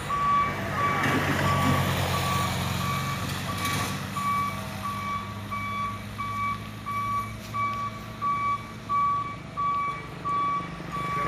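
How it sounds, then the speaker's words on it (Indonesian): A Hino box truck reversing on a steep hill road, its backup alarm beeping in a steady repeated rhythm over a low diesel engine rumble, moderately near. "Terpaksa mundur bosku."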